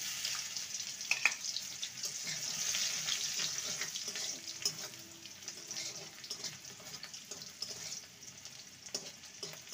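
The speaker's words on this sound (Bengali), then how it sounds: "রসুনটাকে ভেজে নেব ভালো করে, যাতে করে রসুনের কাঁচা গন্ধটা চলে যায়।" Soft continuous sizzling of crushed garlic frying in oil, a steady hiss with occasional small crackles and pops, no talking.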